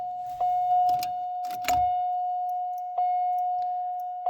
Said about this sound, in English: we're going to just flip our ignition on here